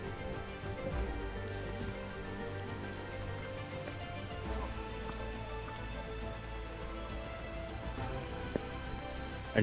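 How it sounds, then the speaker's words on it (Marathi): Rain falls on a jungle trek path, making a soft, steady patter on leaves and ground with a few sharper drops near the end. It carries on without pause and with no talk over it. "आणि त्यात आज पावसानं पण लय साथ दिली"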